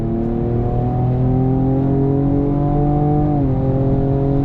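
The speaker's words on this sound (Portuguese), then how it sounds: "o som do escape, pra gente que gosta de carro, é uma das coisas mais legais" Ford Ranger Raptor pickup engine and exhaust drones loudly and steadily, with a slight shift in pitch near the end as the truck holds its speed.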